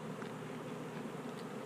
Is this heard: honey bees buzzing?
yes